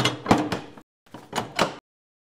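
A stuck house door is rattled and banged in a Telugu comedy web series: two clusters of loud, close thumps separated by a short silence.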